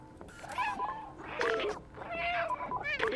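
A cat meows repeatedly in rising, wavering calls amid game sounds during a speedrun practice session, several cries spread across a few seconds over a steady background bed, with speech-like audio mixed in.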